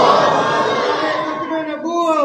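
A crowd at a religious gathering shouts the takbir chant response in unison, a loud collective roar of many voices that swells and then tapers off over a couple of seconds.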